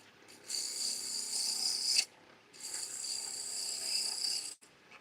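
A wood lathe spins walnut on a new mandrel at 2,000 RPM while a tool takes very shallow cuts, making two sustained hissing, rasping passes separated by a brief pause.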